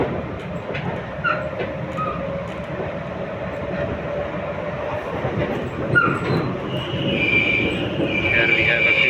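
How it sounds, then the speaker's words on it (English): An RER B commuter train in Paris runs between Massy and Bourg-la-Reine, giving a steady rumbling ride with wheel and track noise heard from inside the carriage, plus a brief high squeal near the end. "we are in RERB train from Massy Palace to Bourg Reine."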